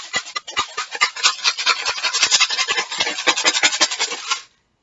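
Dry pasta rattles inside a plastic Tupperware tub shaken rhythmically and close, a dense clattering scrape that stops abruptly.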